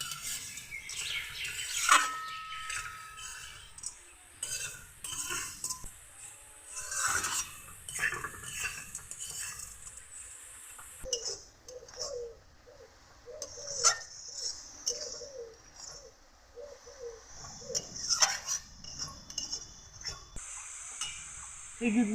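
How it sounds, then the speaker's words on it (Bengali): Date palm jaggery and grated coconut frying in a pan over a medium gas flame, repeated scraping stirs over a soft sizzle, with bird calls and a dog faintly in the background. "খেজুর গুড় আর নারকেল কোড়া একসঙ্গে কিছুক্ষণ ভেজে নিলাম।"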